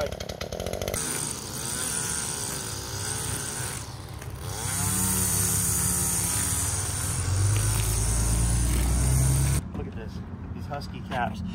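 A Husqvarna chainsaw with a 28-inch bar runs loud and close, its engine revving up and down before cutting off abruptly, with voices talking over it.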